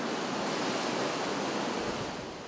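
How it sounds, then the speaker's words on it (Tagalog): Ocean waves rumble and wash inside a sea cave on Calayan Island in a dense, continuous surging roar with a slight wind-like hiss, easing a little toward the end. "Sa loob ng kuweba, lalong dumadagundong ang mga alon."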